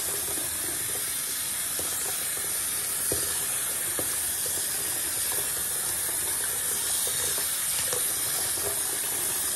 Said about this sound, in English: Trying to wet my hair.